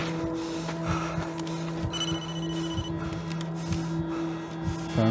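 Telephone ringing in the Blair Witch video game, a steady tonal ring sustained over a low hum and faint background game ambience, with soft thuds scattered throughout; no speech.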